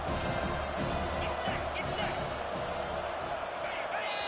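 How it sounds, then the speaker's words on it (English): A stadium crowd in a college football video game, Kennesaw State versus Charlotte, keeps up a loud, constant roar with scattered shouts and whoops rising above the wall of noise. "with this place rocking, the crowd forces a false start"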